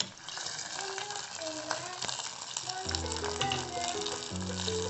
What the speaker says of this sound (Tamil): முந்திரி திராட்சை ரெண்டுத்தையும் வறுத்துக்கலாம்